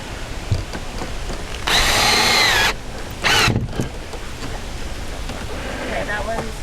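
A power drill drives screws into a wooden chicken coop: one long whirring burst about a second long, then a shorter burst, both close and loud over a background of room noise and faint talk.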